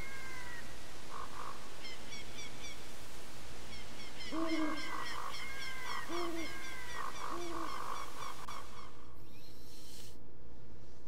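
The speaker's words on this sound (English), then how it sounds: "Get that big ass owl!" An owl hoots in the video game Zelda: Ocarina of Time: repeated synthetic hooting calls in short bursts over a steady game background, loud and close, with no talking.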